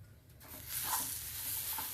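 Grated coconut and semolina roasting in a pan for Chettinad ukkarai sweet, a soft, low sizzle that swells after a quiet start, with faint stirring scrapes close by.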